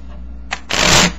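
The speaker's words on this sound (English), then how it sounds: "I'm going to shuffle them into these cards right here, face down." Playing cards are shuffled face down into a deck, with a short riffle followed by a louder, longer burst of flicking cards, close and alone.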